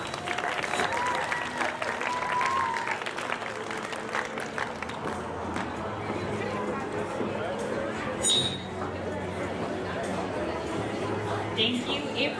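Sustained audience applause fills a pageant hall for the senior queen contestants, dense steady clapping with crowd chatter mixed in, loud and continuous throughout.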